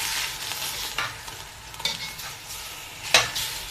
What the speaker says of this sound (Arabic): بنقلب اللحمة من وقت للتاني علشان تاخد اللون الأحمر الجميل ده